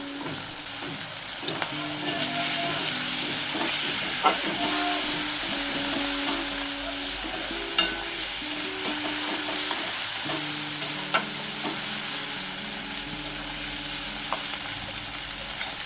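Shrimp sizzle steadily in hot oil in a pan alongside water lily stems, a continuous frying hiss with occasional sharp crackles and pops, close and unbroken, with no talk.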